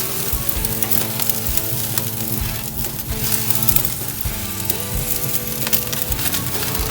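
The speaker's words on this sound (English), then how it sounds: "just sear up that side" A steak sears on a hot grill, giving a steady, close, dense sizzle that holds at an even loudness throughout, with no voices.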